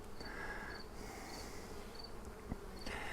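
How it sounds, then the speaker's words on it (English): Honey bees buzz softly around a hive as they seal a seam with propolis for winter, a faint steady drone with a few individual bees whining past up close. "Here we've got the bees propolising this seam closed for winter."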